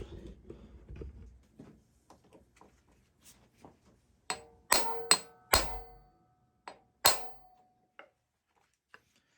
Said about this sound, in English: I'm going to use the impact screwdriver for that